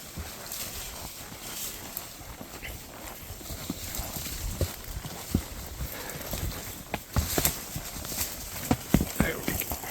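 Horse hooves clip-clop through trees during a cattle drive, an irregular walking rhythm of soft and sharper thuds with occasional louder hits, close to the rider, with brush noise, light background sounds and some voice nearby.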